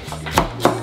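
A knife chopping radicchio on a cutting board: two quick, crisp chops close up, about a quarter second apart, over quiet background.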